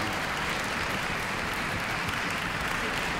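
Steady, dense applause from a large audience at a joyful tribute concert, continuous and even in volume throughout with no break, broad and noisy like a full hall clapping together.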